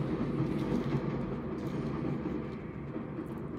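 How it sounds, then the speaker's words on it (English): A train passing close by gives a steady, dense rumble with faint rolling rail noise that holds throughout and eases slightly toward the end, with no talking. "excuse the train noise, it's something I can't avoid."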